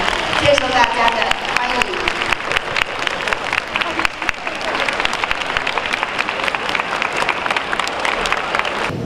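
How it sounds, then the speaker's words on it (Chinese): A crowd gives warm, rippling applause to welcome first-year students on the opening day at a university in Tainan, with a voice speaking over the clapping. "都以热烈掌声欢迎我们大一的新生"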